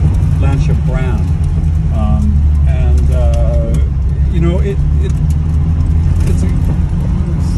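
A 1970 Lancia Fulvia 1.3S Sport Zagato engine hums steadily while driving, a low continuous drone heard from inside the car beneath someone talking throughout.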